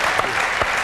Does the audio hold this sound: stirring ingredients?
no